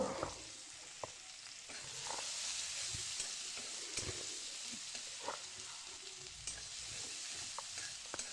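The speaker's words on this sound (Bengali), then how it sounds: "দেখো পেঁয়াজটা ভাজা হচ্ছে" Steady sizzling of onions frying in hot oil, with occasional soft stirring scrapes, close and continuous with no talking.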